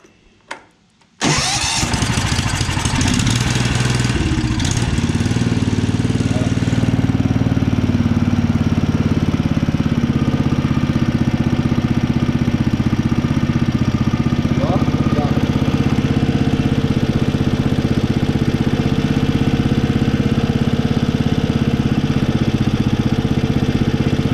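After a faint click, a broken-down lawn tractor mower cranks and starts, then settles into a loud, steady, rumbling idle close by that runs to the end.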